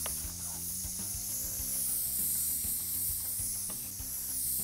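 Soft, steady sizzling and hissing as flour toasts in a pan, faint and continuous, with a few light scraping stirs.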